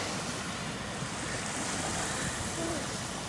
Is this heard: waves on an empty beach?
yes